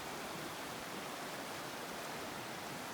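Strong rushing river water runs beneath a big bridge on a backpacking section, a dense, steady broadband roar close by and unbroken, with no voices.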